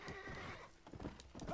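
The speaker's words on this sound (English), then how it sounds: "This horse is so annoying. Stop whining." A horse whinnies loudly and close in the video game Red Dead Redemption, followed by a few quick clip-clopping hoof beats.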